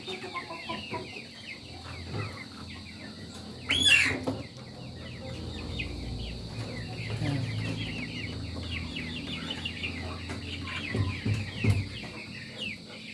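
A flock of two-month-old farm chickens clucks and chatters continuously at feeding time, close by at moderate volume, with a brief louder squawk partway through and no talking.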